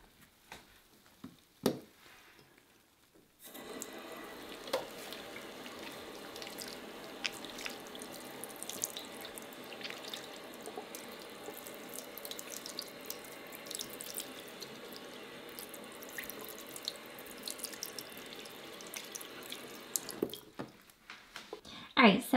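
A bathroom sink tap runs to rinse Lush Carrot soap lather off an arm. After a quiet start with a few small knocks, a steady close stream of water flows for about seventeen seconds, then stops abruptly.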